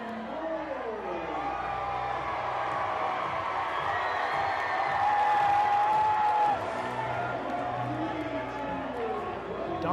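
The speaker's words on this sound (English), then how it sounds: "Crowds are going wild." Cheering, applauding crowd at a CIF-SS high school basketball game, Murrieta Valley against Vista Murrieta, as cheerleaders line up before the players walk through. A steady wall of roaring noise with whoops holds for the whole stretch, rising slightly midway, with a voice talking over it.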